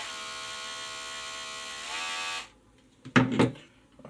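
A Kemei KM-2010 electric hair clipper buzzes steadily up close for about two and a half seconds, then cuts off, followed by a couple of short clunky handling knocks.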